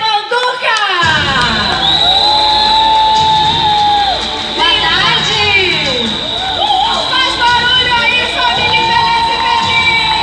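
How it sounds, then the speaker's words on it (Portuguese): A crowd at a cosmetics brand launch event cheers and shouts loudly after a guest is introduced, with whoops and high voices sustained throughout and a presenter's voice over the top. "Eu quero que vocês recebam com muitos aplausos, Letícia Manduca!"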